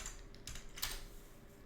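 Quiet, close computer keyboard typing: a few soft key clicks and taps over a low room hiss, with no voices.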